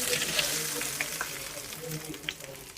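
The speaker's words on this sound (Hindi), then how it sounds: "तो यहाँ पर जो है हम इसका तड़का लगा देंगे।" Hot oil tempering (tadka) for mustard greens saag sizzles steadily in a pan, a constant close crackle with small pops and a faint stir.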